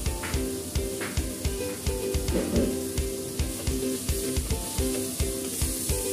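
Mutton frying in a pan for Kabuli pulao, a steady sizzle punctuated by regular rhythmic scraping strokes of a spoon, close and clear with no talking.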